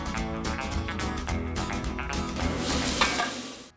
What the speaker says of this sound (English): That's the sound of Nebraska corn-fed beef.